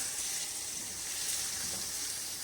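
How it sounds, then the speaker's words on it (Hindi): Chicken pieces frying in a pan with ginger and garlic, a steady close hiss and sizzle that holds evenly throughout, with no voices. "ये चिकन को इसमें ज़रा 2 मिनट आपने फ्राई करना है"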